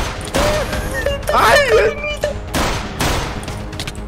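Rapid bursts of gunfire in a video game ring out in loose clusters, tangled with excited shouting from a player throughout.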